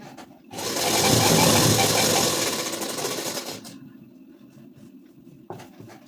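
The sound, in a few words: sewing machine stitching a ladies' suit along the chalk mark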